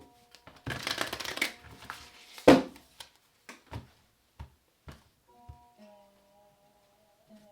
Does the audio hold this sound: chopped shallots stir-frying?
no